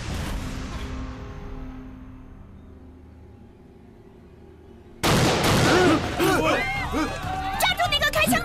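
A sudden loud gunshot cracks out in a Chinese kung fu film scene set against Japanese fighters. It cuts off a fading sustained tone and is followed by a burst of shouting and chaotic commotion.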